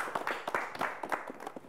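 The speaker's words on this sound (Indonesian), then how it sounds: "Boleh tepuk tangan buat kita semua?" A small group in a TVRI Sumatera Selatan television studio claps in scattered, uneven bursts, quiet and close, for a brief moment.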